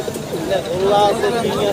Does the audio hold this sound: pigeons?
yes